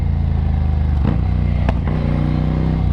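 A Ducati Scrambler motorcycle engine idles with a throaty rumble, broken by two or three sharp exhaust pops ringing out loudly nearby.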